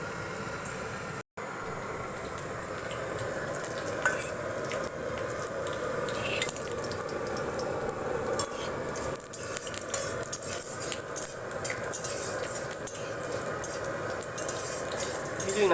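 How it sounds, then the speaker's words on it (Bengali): Dry red chilies fry in hot oil as a tempering for a Bengali potato and chickpea dish, giving a steady, close, moderately loud sizzle with small crackles and spatters, with no one speaking. "শুধু শুকনো লঙ্কা ফোড়ন দিলেই হবে"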